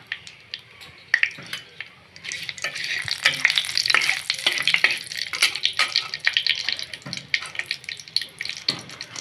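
Bay leaf, cumin and dried chili frying in hot oil for a Bengali lau shak dish, a bright crackling sizzle rising after a couple of seconds, with close stirring scrapes and pops over it.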